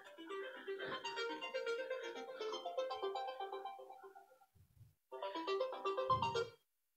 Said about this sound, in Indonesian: Handphone saya. Maafkan, saya harus matikan lebih dulu.